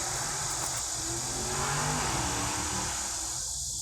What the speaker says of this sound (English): somebody is definitely opening up their car on the highway